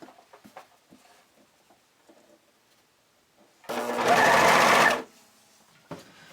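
A sewing machine stitches elastic onto fabric in one loud, steady burst of about a second, after quieter handling noises and before more soft rustling.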